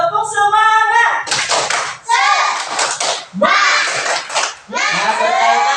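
Schoolchildren in an Indonesian classroom chant and clap a rhythmic 'tepuk semangat' cheer together, loud and close, with bursts of sharp synchronized claps between shouted young voices.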